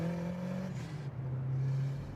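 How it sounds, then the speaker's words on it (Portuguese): A 1984 Nissan RS Turbo engine idles with a steady low hum and a thin turbo whistle that fades after a moment, heard close and alone. "Ouvi esse trazinho do turbo e esse assobio é fantástico."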